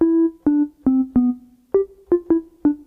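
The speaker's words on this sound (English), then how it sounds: "this one is called Deep Sine Bass" Deep Sine Bass preset from bank 12 on a Roland MC-303 groovebox, a pure sine-wave bass: eight short low notes played in a loose rhythm, each with a soft attack and brief sustain, clear and alone.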